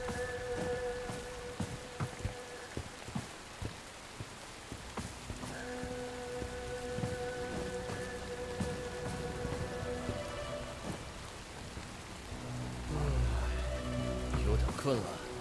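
Steady heavy rain with gusting wind in the video game Bright Memory Infinite, a dense continuous hiss with a low rumble building near the end, while a voice talks over it and faint musical tones sound.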